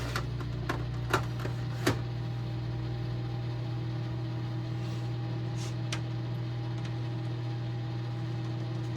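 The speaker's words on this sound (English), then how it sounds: "Put this back in the microwave for about 30 more seconds." A microwave oven running while reheating a batch of soft plastic worm bait, a steady low electrical hum with a constant tone throughout, plus a few sharp clicks or taps early on.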